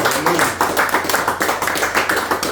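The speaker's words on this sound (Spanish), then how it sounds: "Démosle un aplauso a Jesucristo en este momento." A church congregation applauds for Jesus Christ at a leadership gathering, many hands clapping loudly in a dense, steady, slightly rhythmic wash that fills the room.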